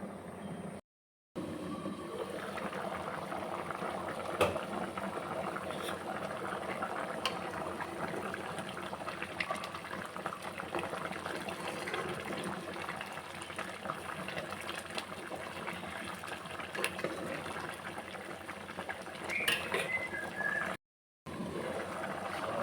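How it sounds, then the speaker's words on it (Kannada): Spinach palak rice simmers in a covered pot, giving a steady, low bubbling hiss that continues without pause throughout. "ಈ ರೀತಿಯಾಗಿ ಇವಾಗ ಕುದೀತಾ ಇದೆ"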